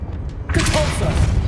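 Confringo fire spell blast in Hogwarts Legacy: a sudden loud booming burst with a crackling, fiery roar that sustains and rumbles after a quiet start.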